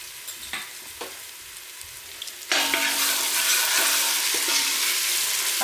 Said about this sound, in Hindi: हमने 1 मिनट तक जो है जिंजर गार्लिक पेस्ट को सौटे करना है